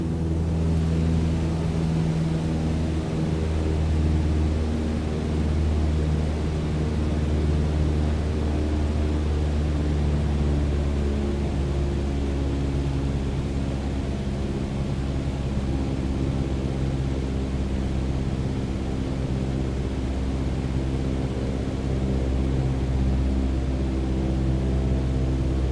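Steady, loud, droning light aircraft engine throttled to cruise power around 1,800 RPM in Microsoft Flight Simulator 2020, a constant unchanging hum with no speech over it.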